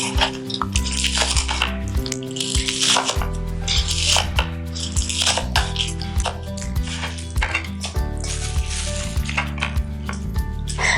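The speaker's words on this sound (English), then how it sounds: "And here I cut this about in half and then cut them in long slices like this." A knife slices scallions lengthwise on a cutting board while preparing Korean pancakes; repeated close cuts and board taps sound over steady background music.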